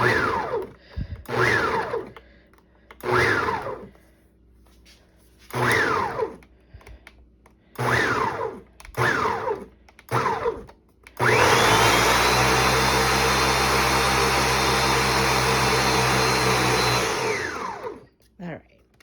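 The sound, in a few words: blender pulsing and chopping food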